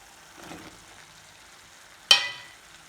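Chopped kundru (ivy gourd) drops into hot oil with a sudden sharp sizzle that flares loudly and quickly fades, after a faint earlier rustle; close and otherwise quiet.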